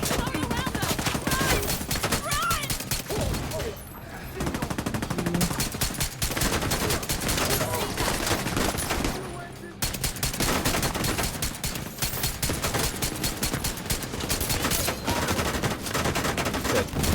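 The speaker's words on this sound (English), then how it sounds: "just shoot one of these shield guys constantly, and you'll get your health back" Sustained rapid gunfire from a firefight against shielded enemies in The Division 2, loud and dense for the whole stretch with only a couple of brief dips, no voices.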